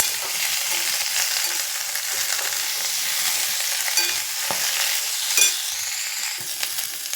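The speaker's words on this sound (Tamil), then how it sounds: "கொத்தமல்லியும் போட்டுடலாம். அதுக்கு சிம்மில் வச்சுட்டு நல்லா வதக்கி விட்டுடலாம்." Coriander leaves sauté in a pan over a low flame while making karpuravalli thuvaiyal, giving a steady, even sizzle with occasional scrapes and light clinks of stirring throughout.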